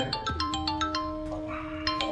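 Mobile phone ringtone playing a bright repeating melodic pattern of tones over a sustained note, clear and moderately close, with no talking over it.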